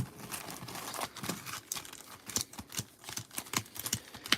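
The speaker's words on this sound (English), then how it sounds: "I have to shuffle first, so it wouldn't be fair. We got to shuffle a little bit." Rapid, uneven crisp riffling of trading cards being shuffled by hand, close and continuous with quick papery flicks and no talk.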